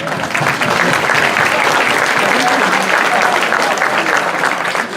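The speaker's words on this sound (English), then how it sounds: "Let's give him a round of applause." A conference audience claps loudly and continuously during a business meeting, the close, sustained applause filling the room with no talk over it.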